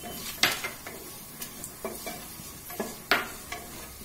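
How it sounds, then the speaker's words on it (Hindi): Cashews frying over medium flame in a pan with garam masala, heard as quiet sizzling with scattered spoon scrapes and clinks against the pan, close and fairly sparse, no talking. "अब हम इसमें अपना काजू डालेंगे। अब इसको भी"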